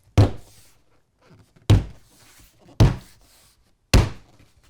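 A foam board is banged onto model railway track four times, giving heavy, close thunks spaced about a second apart, each with a short decay, with no talking.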